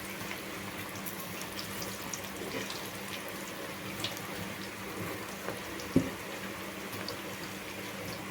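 Onion pakoda frying in hot oil gives a steady, moderately quiet sizzling hiss with a few small pops and crackles, and no talking.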